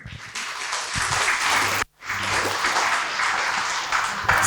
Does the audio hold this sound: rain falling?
no